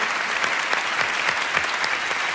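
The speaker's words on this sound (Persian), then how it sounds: "بابا عید درست تشویق کنید." Continuous applause from an audience at a children's storytelling program about the prophet Jonah, many hands clapping in a dense, even wash at close range, with no voices on top.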